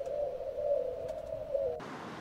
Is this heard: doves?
yes